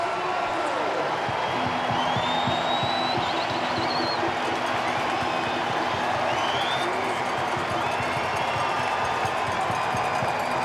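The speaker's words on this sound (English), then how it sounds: "Listen to the crowd." A rugby stadium crowd at a Super Rugby Pacific grand final, Blues versus Chiefs, applauds and cheers in a dense, sustained roar of clapping and voices, with a commentator talking over it.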